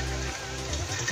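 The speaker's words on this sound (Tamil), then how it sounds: "சிங்கப்பூர்ல இன்னைக்கு செம மழை பெய்யுது" Heavy rain falls steadily in Singapore, a dense continuous patter heard close and fairly loud, with some low tonal hum underneath.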